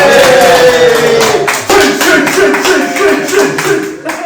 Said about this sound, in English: we'll do claps and like